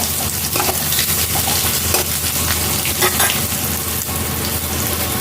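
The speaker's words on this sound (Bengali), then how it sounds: "এটাকে লাল লাল করে একটু ভেজে নেব আলুটাকে।" Potato pieces fry in oil with turmeric and salt in a pan, making a close, loud and continuous sizzle with crackles and stirring scrapes. No talking is heard.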